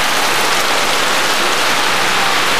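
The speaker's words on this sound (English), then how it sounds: "In no time, in Trinidad and Tobago, they have instant rain. And when it pours," Heavy pouring rain in Trinidad and Tobago, a loud, dense, unbroken hiss of water hammering down with no pauses.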